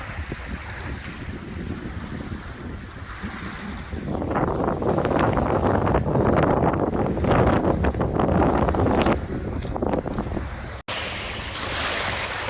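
The fast, churning Allegheny River, just below where the Kiski River merges into it, rushes loudly and steadily, with gusts of wind buffeting the microphone.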